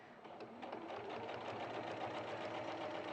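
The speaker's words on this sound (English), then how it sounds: "So you're stitching all the way around the neckline now" A sewing machine stitches steadily around a garment neckline, its fast, even motor whirr running continuously at close range with no pauses.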